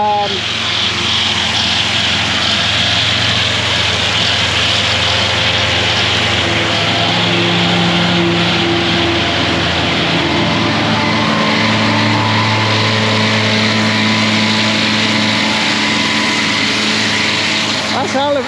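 A tractor's heavy engine drones steadily and loudly throughout while cutting grass for silage in a field, a low laboring rumble with voices talking over it.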